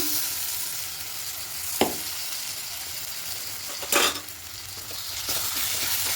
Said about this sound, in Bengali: একটু ভালো করে সব মিশিয়ে নেব হালকা একটু ভেজে নেব একটু শুকনো হয়ে আসা পর্যন্ত দেখতে হবে নাড়তেই থাকবো